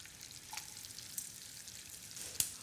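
Pancetta and spring onions fry in oil with a faint, steady crackle, broken by a few sharp pops near the end.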